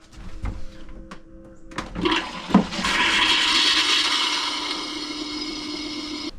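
A camper toilet flushes as its water lines are blown out with compressed air, starting with a few clunks and a thump, then a steady loud rushing hiss of air and water that carries on to the end.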